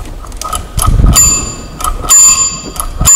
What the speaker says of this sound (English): Okay, that's the bell.